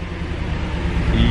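A car engine revs at the Toronto auto show, a dense low rumble building steadily and growing louder toward the end, with a busy crowd murmur and speech in the background.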